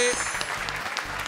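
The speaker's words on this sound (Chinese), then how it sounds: "掌声鼓励鼓励。" A studio audience claps on a televised quiz show just before the final round, a dense burst of applause running steadily throughout, with a host's voice briefly over it at the start.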